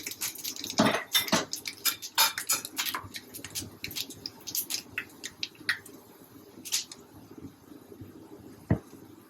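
Fenugreek and nigella seeds hit hot oil in a pan and set off dense crackling and popping for a Bengali eggplant curry, with close, busy sizzle bursts that slowly thin out and no voices over them.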